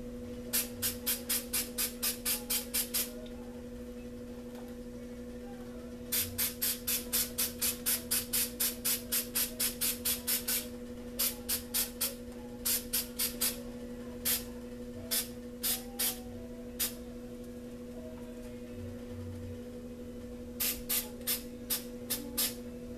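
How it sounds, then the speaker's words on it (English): Short bursts of a spray paint can hissing onto canvas while painting nebula art, loud, close and sharp, in quick clusters of rapid taps early on, then single spaced puffs, over a steady low electrical hum. "make sure that your spray is not going back into the canvas."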